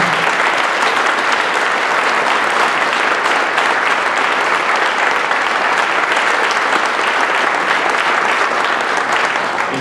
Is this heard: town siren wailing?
no